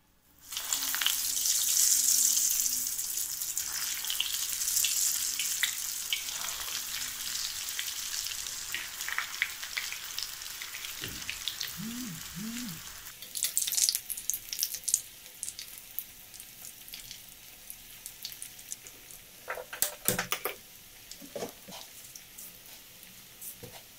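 Potato cheese balls frying in hot oil, a steady broadband sizzle that starts loud and settles, with faint utensil clicks and brief tonal squeaks midway and a few sharper crackles toward the end.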